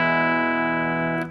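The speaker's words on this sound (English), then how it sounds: "So you can hear that delay and reverb there." A sustained electric guitar chord from a Telecaster fitted with humbucker pickups rings out through delay and reverb, fading slowly before a brief noise at the end.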